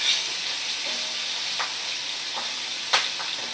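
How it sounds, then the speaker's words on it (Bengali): Fish fry in a pan with oil, giving a steady close sizzle and hiss broken by a few sharp crackles and spits, with no voices. "মাছগুলো দেখো উল্টে পাল্টে সুন্দর করে ভাজা করে নিচ্ছি।"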